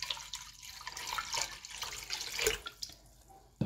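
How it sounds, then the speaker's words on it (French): Two litres of water pour into a cooking pot for pretzel bread, a close, steady splashing and gurgling stream with a few drips, fairly quiet and without talk. "je vais ajouter donc mes 2 litres d'eau"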